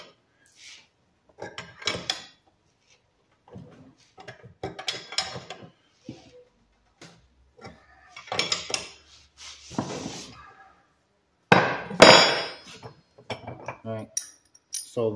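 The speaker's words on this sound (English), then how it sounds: "I got this in the vise, put a little pressure on it, and then I'm gonna crank this down." Metal clanks and scrapes come as a bolt and pipe nipple are tightened in a vise while building a gasifier weld kit. Sharp knocks and ratcheting clicks arrive in irregular bursts with quiet gaps between them.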